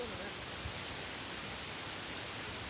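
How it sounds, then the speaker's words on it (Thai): Wind blowing outdoors on a riverbank, a steady, dense rushing roar that stays even throughout, close and fairly loud. "ลมพัดแห้งครับ"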